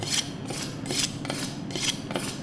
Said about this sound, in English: So I'm gonna sharpen that.